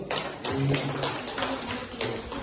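A small group claps together, a run of scattered hand claps rising and falling in uneven bursts.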